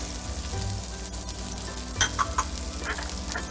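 Pepper, granulated garlic and granulated onion being stirred into a pasta cream sauce for shrimp, mushroom and spinach pappardelle: a steady close sizzle, with a few brief scraping strokes of the utensil near the end.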